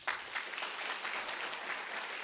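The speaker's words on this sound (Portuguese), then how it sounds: "Vamos aplaudir o Senhor?" A congregation at a Portuguese-language church service applauds with soft, steady clapping that sounds distant and faint.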